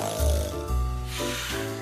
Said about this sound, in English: Easy, Grandpa is snoring.